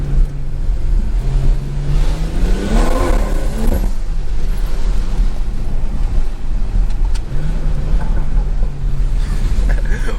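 A Stage 2 BMW 340i engine revs up with rising pitch on snowy roads, then drops and revs again later, over steady rumbling exhaust, intake sound and some wind noise.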